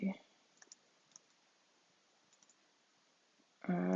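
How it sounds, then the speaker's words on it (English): Sparse, faint computer keyboard keystrokes while C# code is typed, a few soft isolated clicks in the middle with a voice talking at the very start and again at the end. "It's just going to be a lot of me typing console.writeLine."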